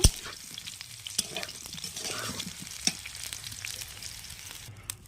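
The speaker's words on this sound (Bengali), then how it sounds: "আমি এইভাবে এঁচোড়টাকে ভেজে নিয়েছি" Young jackfruit frying in oil, a close crackling sizzle with a few sharp knocks and scrapes of a utensil against the pan.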